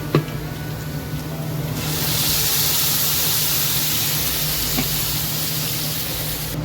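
Spices tipped into a hot pan of ground cumin, ginger, onion, tomato and green chili paste set off a steady, loud sizzle and hiss that swells after a couple of seconds and holds to the end.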